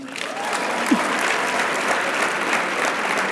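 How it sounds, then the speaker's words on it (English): Audience at a leadership conference giving steady, moderately loud applause from a large crowd, a continuous wash of clapping that holds evenly throughout. "Please clap for me."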